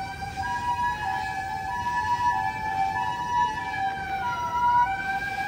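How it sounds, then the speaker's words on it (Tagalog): Ambulance siren wailing on a street in Ueno, Japan, a steady two-tone pattern over rumbling traffic, clear and fairly close, with no talking. "Pag may mga ambulansya. Unahin talaga ambulansya."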